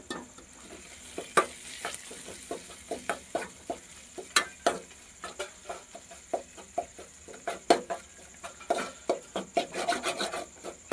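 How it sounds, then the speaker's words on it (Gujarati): Fenugreek greens cooking with gram flour are stirred in a pan, giving repeated scraping, rasping strokes at an irregular steady rhythm over a faint sizzle, close and fairly quiet, with no talking. "આ રીતનો આપણે લોટ નાખીને આને હલાવી નાખવાનું."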